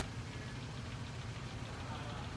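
A car engine runs on vape juice in place of engine oil, idling with a low, steady, faint rumble that holds constant and never stalls.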